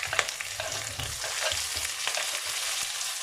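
Green chillies and tomatoes sizzle and fry in a pan of garlic paste for a potato, pea and carrot vegetable dish, with steady crackling broken by scraping stirs throughout, close and moderately loud with no talking.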